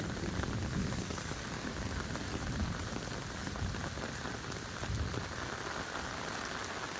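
Heavy rain pours steadily over Nagadevanahalli in Bengaluru, a dense, continuous hiss of drops hitting surfaces close by, with no voices throughout.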